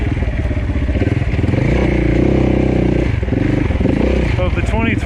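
Motorcycle engine revving and running steadily on a race course for a scramble-style off-road event, loud and close throughout, with a few clattering bumps and a voice talking over it.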